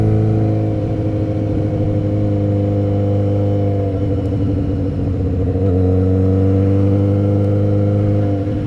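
A motorcycle engine runs at a steady idle, close and loud, holding an even mechanical drone with a slight change in tone partway through and no voices over it.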